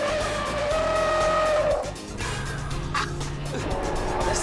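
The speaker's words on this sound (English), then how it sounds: "Try a bit of late braking." A car brakes late into a corner on a race circuit, tires squealing loudly with a sustained screech, the engine note dropping and then pulling again under steady road noise.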